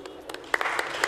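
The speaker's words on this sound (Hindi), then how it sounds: "एक बार तालियां हो जाएं" Applause from the audience at an award ceremony in Lucknow, a few scattered, fairly faint claps with light crowd background.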